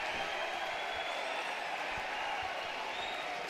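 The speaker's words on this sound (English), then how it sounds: "Some sarcastic applause from the locals." A distant stadium crowd at a college baseball game between Arkansas and LSU gives thin, sarcastic applause, a faint, steady wash of scattered clapping and crowd noise with a few soft low thumps.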